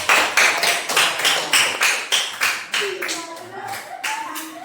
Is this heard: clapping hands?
yes